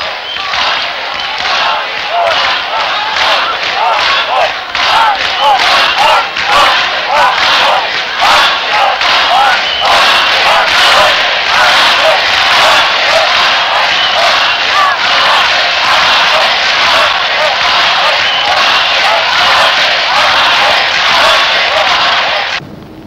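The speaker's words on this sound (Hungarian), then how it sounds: "Nézze, itt jön a tömeg." A large crowd sends up a loud, sustained roar of voices and shouts with dense rhythmic bursts, steady and close throughout with no break.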